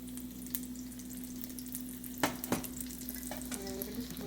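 Chocolate chip French toast frying in an oiled pan, giving a steady low sizzle with a few sharper crackles and taps from moving it around. The sound is close and even, and no one speaks.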